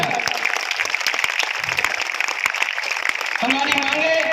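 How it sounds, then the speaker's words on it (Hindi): Crowd at a protest rally of health workers clapping loudly and steadily, with a voice speaking over the applause toward the end. "उनके लिए भी जोरदार तालियां"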